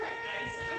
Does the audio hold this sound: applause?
no